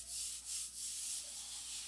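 Slow strokes of sanding by hand, a soft, hissing rub that swells and fades in a few back-and-forth passes. The sound is faint and close, with no voices.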